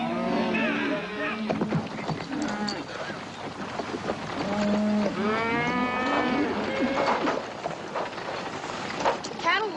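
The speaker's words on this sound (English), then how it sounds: "Cattle will be glad to get a drink." Several cattle in a herd low and moo repeatedly, overlapping calls near and far, with people talking over them in an outdoor Western setting.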